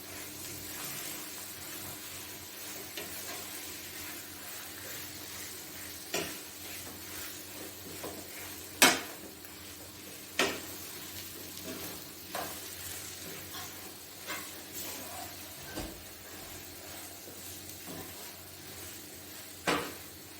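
Potato filling being mixed in a pan over low heat, a faint hiss under scattered scrapes and knocks of a spoon against the pan.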